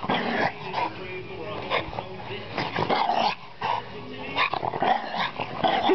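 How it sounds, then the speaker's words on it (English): A half-beagle puggle dog growls and barks while playing in snow, close and lively, with someone talking and laughing over it throughout. "this is what snow does to my half-beagle dog"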